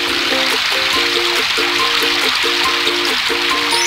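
Water pours from a watering can onto seeds in a kids' home adventure video game, a bright continuous trickling hiss under a looping cheerful melody of repeated note patterns.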